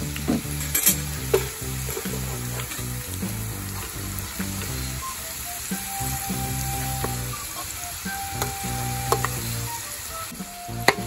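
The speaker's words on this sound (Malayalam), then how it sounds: "പപ്പടം നമ്മൾ നല്ലോണം വറുത്തെടുത്തിട്ടുണ്ട്" Small pappadam pieces frying in hot oil over a low flame, a steady crackling sizzle with occasional sharp pops and stirring clinks, fairly quiet and with no talk.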